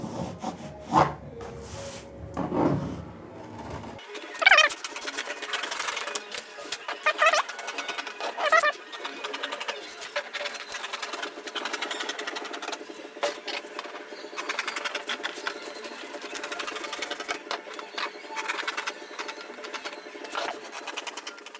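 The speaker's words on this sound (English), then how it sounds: "So let me continue cutting." Fabric being cut for a bustier pattern with a princess dart and illusion neckline, heard as continuous close scraping and rubbing with scattered soft snips and rustles, no talking.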